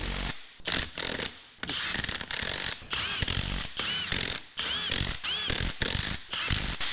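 A ratchet tightens bolts on a ring gear in a series of rapid clicking bursts separated by short pauses, close and fairly loud in a workshop.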